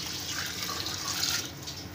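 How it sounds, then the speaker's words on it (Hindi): Water poured into a pot of Lahori murgh chanay, a broad steady splashing rush that holds close and fairly loud for the whole two seconds, with no talk over it. "अब इसके अंदर हम पानी ऐड करेंगे थोड़ा सा"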